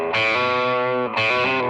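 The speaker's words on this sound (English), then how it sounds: "the overdrive is just a normal drive sound, which is a little less muddy than what the distortion would do" An electric guitar through an overdrive pedal plays two sustained, moderately driven chords, each ringing for about a second with a brief break between them. The tone is loud, close and full of harmonics, with no voices.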